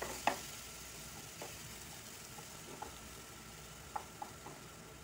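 Ripe plantain pieces sautéing in ghee in a pan, a faint steady sizzle with a few soft clicks of stirring against the pan.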